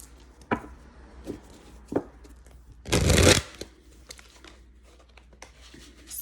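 Lover's Path tarot cards are shuffled in a few short riffling bursts and one longer flurry, close and fairly soft, with no speech.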